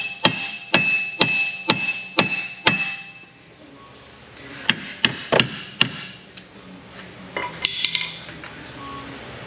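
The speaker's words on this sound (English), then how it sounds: "We have hammers for that kind of thing." A hammer strikes a bent metal bracket on a Lexus RX350 3.5 during repair work, a run of sharp, evenly spaced ringing blows, then a pause and further irregular, clanking hits, loud and close.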